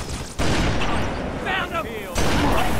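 Grenades explode in Halo 3 in a dense, loud burst of booming blasts and gunfire-like crackle, with a brief pause before another heavy blast, voices faintly mixed in.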